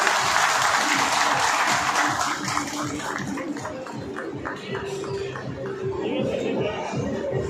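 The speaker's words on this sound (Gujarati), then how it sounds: "જોરદાર તાળી છે." Audience at a Kargil Vijay Diwas ceremony for ex-servicemen applauds while a martyr's family is honoured, with loud, steady clapping through the clip and a voice speaking over it.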